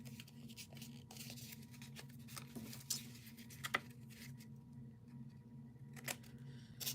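Scissors snipping through card material for crafting note pockets, a series of short, crisp cuts spread irregularly over a quiet background with soft handling noises between them.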